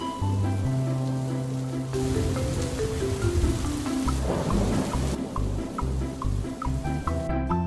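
Cartoon rain falls steadily in a Bluey episode, a dense patter with low rumbling thunder-like swells, layered under a gentle musical score throughout.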